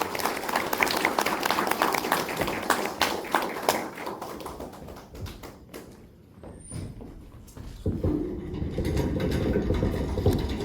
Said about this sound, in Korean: 큰 박수로 환영